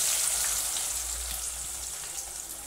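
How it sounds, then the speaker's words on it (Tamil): Small onions sauté in hot oil in a pan for a green gram curry, a steady, close, even sizzle of frying that runs without pause and with no voices. "அடுத்ததாக வெங்காயம் சேர்த்துக்கலாம்."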